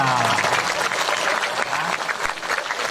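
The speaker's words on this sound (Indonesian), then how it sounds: "Tepuk tangan buat beliau" Loud, dense applause from an audience, many hands clapping steadily for a few seconds.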